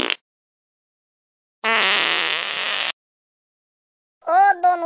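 A person breaking wind while suffering a stomach ache, heard as one sustained, noisy, buzzing blast of about a second, close and fairly loud, with a short voiced sound just after.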